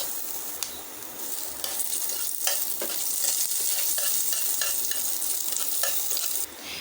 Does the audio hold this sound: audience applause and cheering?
no